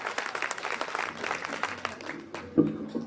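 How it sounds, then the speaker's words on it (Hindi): An audience gives a speaker a welcoming round of applause, busy clapping that fades out partway, followed by a voice starting to speak. "जोरदार तालियों से आप स्वागत"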